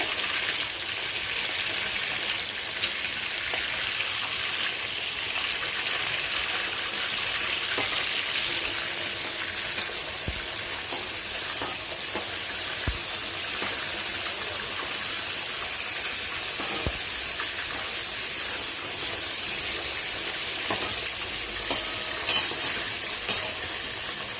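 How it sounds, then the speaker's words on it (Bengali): Prawns fry lightly in hot oil for a Bengali malai curry, a dense, even hiss of sizzling and spitting oil that continues throughout, with a few faint clicks of utensils. "চিংড়ি মাছ কিন্তু খুব বেশি ভাজা যাবে না, খুব হালকা করে মিনিট দিয়ে সাতলালেই হবে। তেল ছিটছে,"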